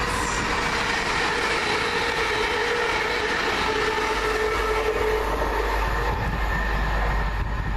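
A London Midland Class 350 passenger train speeding through Adderley Park station, a loud steady rush of wheels and carriages passing close by with a sustained mechanical hum.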